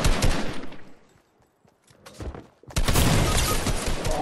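Rapid automatic gunfire in a battle royale shooter game, loud bursts in two stretches with a near-silent gap between them, no talk over it.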